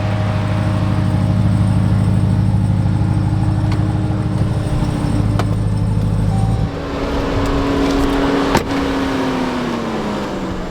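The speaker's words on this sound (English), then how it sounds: "God, this car is so loud" The Jeep Trackhawk's engine idles with a loud, steady roar and a deep, sustained rumble that drops slightly in pitch partway through. No one speaks.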